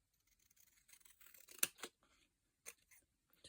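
Scissors snip a small paper card for a junk journal, a few crisp close cuts with a sharp loud snip in the middle and scattered quieter paper rustles around it, no speech.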